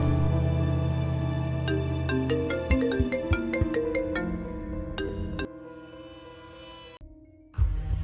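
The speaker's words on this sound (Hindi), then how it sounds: "तुम जरा उसे फोन लगाओ" A phone ringtone plays a bright electronic melody of rapid repeated notes, loud and close, then stops briefly before a short burst resumes at the end.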